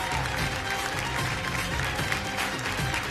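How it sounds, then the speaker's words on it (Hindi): Steady applause from a TV game show studio audience on Kaun Banega Crorepati, continuous and fairly loud throughout. "एक बार फिर जोरदार तालियां हो जाए."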